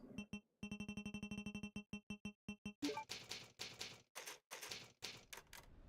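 Video game typewriter save effect: a rapid run of crisp mechanical key clacks in an even rhythm, followed by heavier, noisier strikes and a carriage-like clatter, loud and alone without talk.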